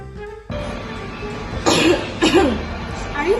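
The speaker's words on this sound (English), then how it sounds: "Are you coughing?" Two or three harsh, close coughs burst out one after another over a steady indoor background, each a short rough explosive hack.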